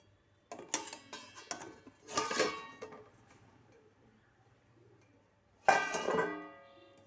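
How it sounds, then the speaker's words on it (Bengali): A plate used as a lid is lifted off a cooking pot of broccoli curry, making several close metallic clanks and rattles in separate bursts with quiet gaps between them. "ঢাকনাটা খুলে দেখে নিচ্ছি।"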